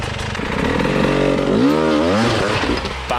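A hard enduro motorcycle engine revs loudly while the bike climbs rocks and wheelies up a second rock, the pitch rising and falling in strong sweeps that peak midway before settling, close and unbroken.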